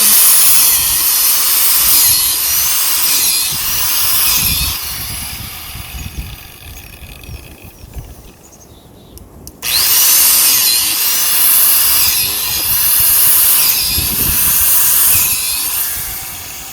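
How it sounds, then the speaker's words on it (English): A power drill bores holes into a hardwood log for shiitake cultivation, loud whining bursts repeated in a steady rhythm, with a quieter pause in the middle before drilling resumes. "I'll now continue drilling."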